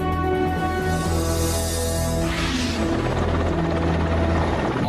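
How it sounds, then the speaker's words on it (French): Russian Air Force helicopters fly over the Kazakhstan plains, a loud, continuous rotor thump and turbine whine that stays steady and close throughout. "les hélicoptères de l'armée de l'air russe survolent les plaines du Kazakhstan"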